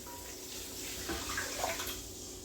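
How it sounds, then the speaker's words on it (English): Chicken broth pours into a pot for soup, a steady wet splashing and trickling stream that runs continuously at moderate loudness. "So now I'm going to do the chicken broth and the heavy cream. We're going to pour that in."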